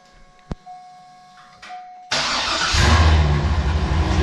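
A C5 Corvette engine with some exhaust leaks starts up after repair: a click and quiet hum, then an abrupt loud start that settles into a steady rumbling run with a low throb, close by.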